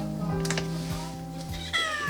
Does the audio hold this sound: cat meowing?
yes